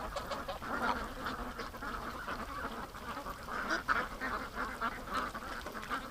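Several ducks quack in a noisy flock near the water on a homestead, overlapping calls forming a continuous, moderately distant chatter with honk-like squawks and no speech.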